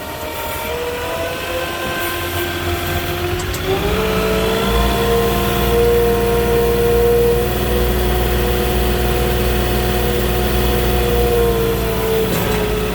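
A Moffett forklift engine drones loudly as the truck drives across soft sand on a delivery. It holds a steady, strained hum that rises in pitch partway through and stays under load to the end, with no voices.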